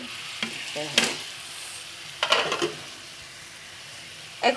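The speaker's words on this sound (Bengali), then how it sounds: "এগুলো এখন আমি ভাজি করে নামিয়ে ফেলবো" Shell-shaped jhinuk pitha cakes frying in oil, a soft steady sizzle punctuated by a few clattering stirs and scrapes, close and moderately quiet with no talking.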